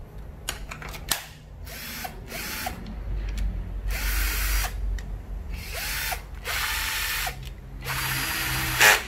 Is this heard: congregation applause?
no